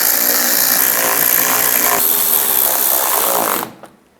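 A power tool whirs steadily while tightening inner fender screws on a 2005–2015 Nissan Xterra during a fog light kit install, loud and close, then stops abruptly near the end.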